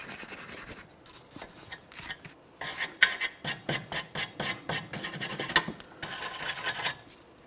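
Wire brush scrubbing rust and debris off the splines of a 2012-2015 Honda Civic front axle, close-up rapid rasping strokes in irregular bursts with short pauses, no talking.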